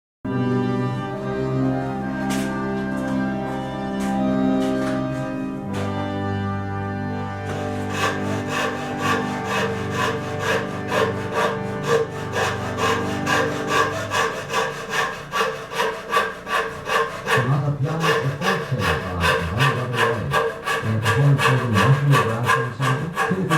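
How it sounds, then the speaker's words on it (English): A hand saw cutting a dovetail in wood for a saw bench, starting with short rasping strokes and settling into a steady, rhythmic back-and-forth sawing, close and loud. "now I've got to cut a 5/8 inch deep dovetail on this and then on the other side"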